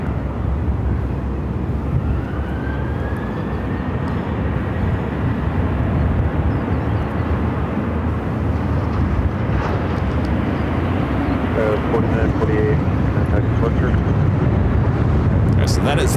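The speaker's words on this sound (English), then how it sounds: "that is that Delta flight coming in from Boston, arriving on runway 26 on the north side" A Delta Airbus A350 airliner arriving from Boston roars steadily down onto the runway at Phoenix airport, a loud, sustained broadband jet rumble that holds throughout and swells slightly near the end.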